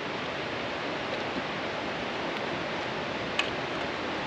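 A powerful waterfall in Jämtland Härjedalen rushes in a steady, loud, broadband roar with no talk.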